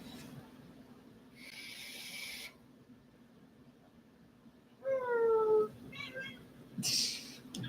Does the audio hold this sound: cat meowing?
yes